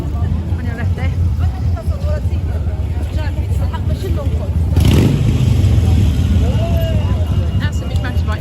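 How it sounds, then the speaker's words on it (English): A big motorbike passes along an evening street in central London near Oxford Street, its engine swelling into a loud roar that briefly dominates the surrounding traffic noise, while someone talks over the city bustle. "That's a big motorbike you can hear."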